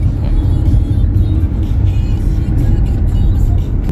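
Steady low engine hum and road rumble from inside a luxury car driving through Romania, continuous and moderately loud with no voices over it.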